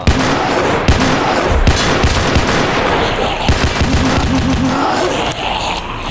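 Gunfire in the Roblox horror game Paracam: loud, dense bursts of shots packed tightly together with no clear gaps, sounding like rapid automatic fire that runs the whole stretch.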